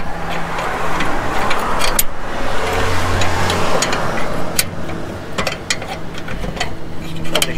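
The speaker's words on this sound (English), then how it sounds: "hear all them cars going past" Cars pass along a suburban street beside a footpath, heard as rising and falling road whooshes at moderate distance, with a few sharp ticks and clinks from nearby work.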